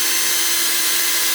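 Power drill boring through the metal hood of a Subaru BRZ / Toyota FRS to fit a hood vent: a short, steady, high-pitched whine with grinding hiss, close and alone.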